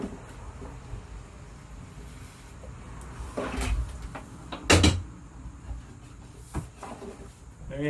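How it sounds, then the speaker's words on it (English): A repaired wooden drawer slides back into a piece of furniture, giving a few close scraping rubs and knocks, with a sharper thud midway and a soft voice briefly heard. "Ready to go, put it back in the drawer."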